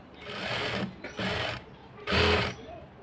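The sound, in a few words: sewing machine stitching blouse hook patti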